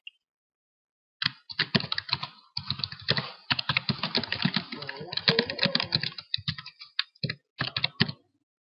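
Computer keyboard typing in a text editor, a steady stream of close, crisp key clicks with brief pauses and no voice.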